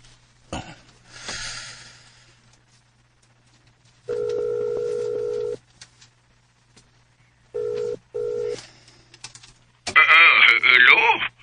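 A cellphone call is placed, with short bursts of steady ringback tone repeating and pausing, followed by a loud burst of voice at the end, amid a faint hum.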